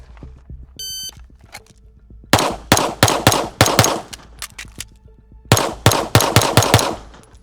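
Sharp gunshots ring out at a shooting competition, two fast strings of about six close, loud reports each after a short timer beep, with fainter clicks and steps between strings.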